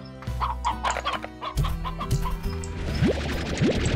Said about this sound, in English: Oh my God, that's a lot of chickens.